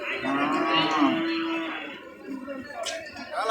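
Cattle at a large livestock market low out in a long, drawn moo near the start, then the pen noise settles into a busy murmur with a brief sharp sound toward the end; people talk faintly in the background.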